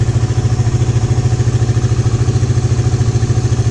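Suzuki Raider 150 motorcycle fitted with a 30mm Keihin carburetor, idling loud and close with a steady, rapid, even low pulsing throb that never changes pace.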